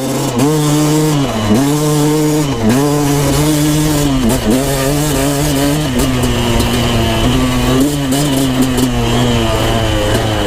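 A KTM 250SX two-stroke dirt bike on a desert ride, its engine loud and close, revving up and down in repeated surges with a rasping, buzzing tone that never drops away across the whole stretch.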